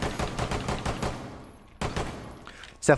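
Smonk's low-recoil gun firing in Rainbow Six Siege, a rapid run of automatic shots, a pause, then another short burst and a final sharp crack, close and fairly loud.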